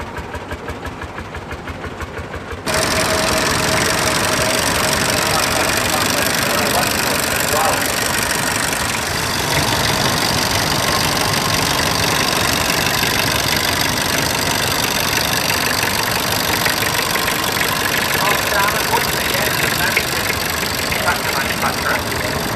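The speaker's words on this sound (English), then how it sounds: "Now it's time for the Orange Tractor Parade." Tractor engines, including a Fordson, idle and rumble steadily at a tractor parade for the whole stretch, loud and close, a continuous mechanical drone with a brief quieter start.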